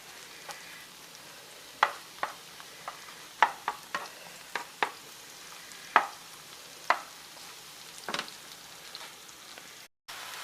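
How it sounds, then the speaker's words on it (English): Mushrooms cooking in a pan, with a steady soft sizzle broken by scattered sharp clicks and scrapes of a utensil stirring them, moderately close and without speech. "Now I'm going to put the mushrooms into the pan and start them cooking."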